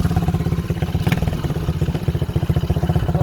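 Motorcycle ridden back and forth with its engine running hot; a close, loud, rhythmic thumping engine note that pulses steadily throughout.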